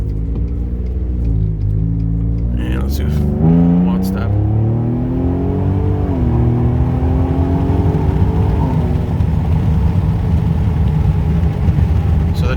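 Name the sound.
Ford Raptor EcoBoost truck launching and accelerating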